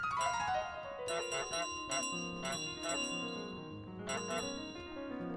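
A magic bell in Untitled Goose Game rings repeatedly, bright metallic dings struck in irregular clusters with long shimmering decays that overlap one another.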